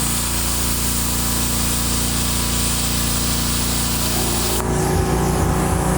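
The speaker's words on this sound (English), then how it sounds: "Let's see if we can cut this nut off." A BESTARC plasma cutter cuts through a nut, a steady loud hissing roar with an electrical hum that shifts in tone near the end.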